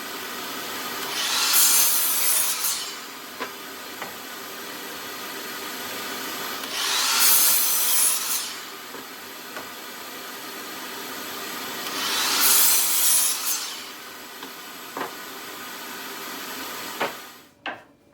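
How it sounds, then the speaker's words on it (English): Three bursts of sawing through 2x4 lumber boards, each a few seconds of loud, close cutting with rough rasping, separated by quieter pauses with light knocks. "I start by cutting down some 2x4s to give my frame extension the width I need"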